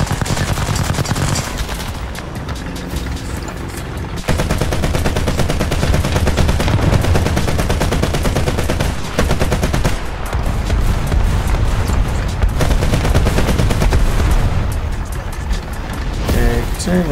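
Dense, sustained video-game gunfire rattles almost nonstop for the whole stretch, loud and close, with rapid automatic bursts and layered shots, dipping briefly around a few seconds before surging back; game sounds dominate with voices mixed underneath.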